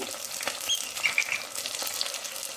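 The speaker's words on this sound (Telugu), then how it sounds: "ఇప్పుడు దీంట్లో అల్లం వెల్లుల్లి పేస్ట్ వేద్దాము" Ginger garlic paste hitting a hot pan for gongura curry, giving a steady, close sizzle and crackle with small bright spits throughout.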